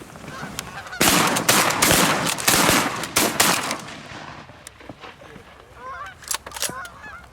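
Geese honk in a flock flying over a Minnesota hunting spot with sheet water, their calls mixed with several loud shotgun blasts early on, then scattered honking continuing after the shots fade.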